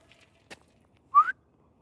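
A man outdoors whistles once, a short rising whistle, trying to catch his wife's attention; a faint click sounds just before it, with quiet surroundings otherwise.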